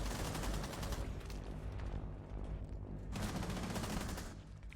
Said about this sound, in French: il ne restera plus que ce maestro qui est seul derrière ce petit bar et qui tombera sous les balles de Karmaz